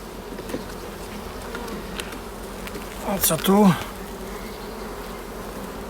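Low, steady buzzing of many honeybees close by at a hive, with a single bee zipping past loudly midway and a brief spoken question over the hum.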